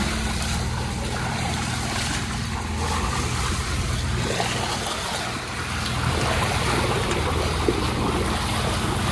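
A 2009 Grainger 40 sailing catamaran's hulls cut through open water, giving a steady rush of water and wind with a low rumble underneath, and no voices.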